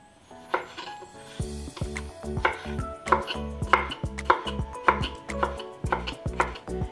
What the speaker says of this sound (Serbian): sada ću 7 krastavčića iseckati takođe na ovakve kockice